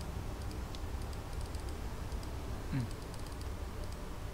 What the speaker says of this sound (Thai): มันต้องคลิกเมาส์รัวๆเร็วๆอ่ะ